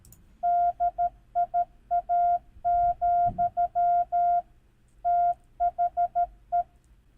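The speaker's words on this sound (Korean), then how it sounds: "이 말을 모스 부호로 만든 것이 음원이 있습니다." A steady single-pitch Morse code tone spells out the Wikipedia slogan in crisp dots and dashes. The beeps come in clustered groups with short pauses between letters and words, loud and clean over faint background noise.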